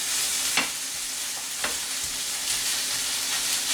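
Ground pork sizzles steadily in a pan, a loud constant hiss with a few scraping strokes of a spoon breaking up the meat.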